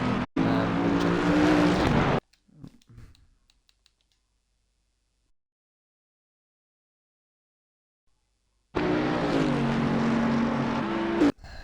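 GT3 race cars in the Assetto Corsa Competizione sim at the Nurburgring roar in two loud bursts of rising engine whine, separated by a long stretch of near silence with a few faint clicks.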